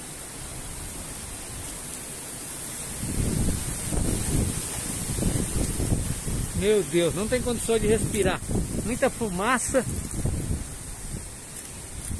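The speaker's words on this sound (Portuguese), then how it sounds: "Muita fumaça com terra junto. Tempestade de vento com fumaça" Strong wind roars and hisses steadily against the microphone during a windstorm carrying smoke and dirt from a fire, with a person speaking anxiously in Portuguese over the gusts.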